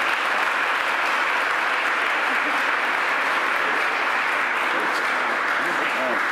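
A crowd at a governor's public announcement on the Kensington Expressway project breaks into sustained, loud applause, dense and even clapping throughout with cheering mixed in.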